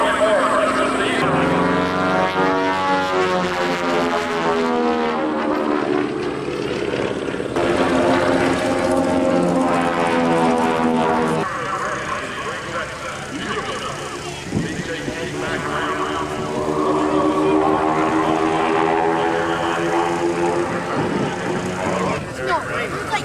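A propeller stunt airplane performs aerobatics at the 2003 Lunken airshow, its engine droning loud and steady throughout with a rising and falling pitch as it passes, while people talk over it.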